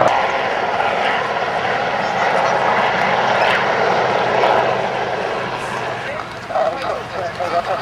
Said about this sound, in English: The helicopter having run in, now turning in to deposit an air crewman.